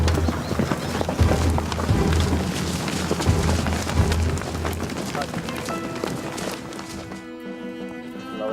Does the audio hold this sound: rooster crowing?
no